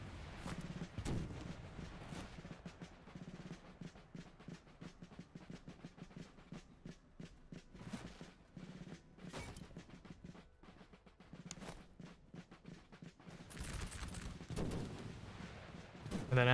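Musket salvos crackle across a battlefield in Master of Command during a US Continental Army campaign, with irregular volleys of distant pops and heavier booming artillery blasts spread over the clip.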